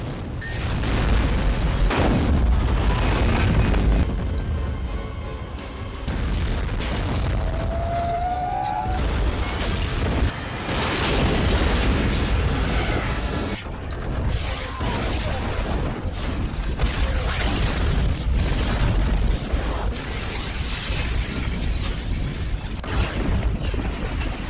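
Explosions from the 2000 film Battlefield Earth come one after another: loud booms, crashes and rumbling blasts fill the stretch, with scattered metallic dings and occasional muffled voices under the din.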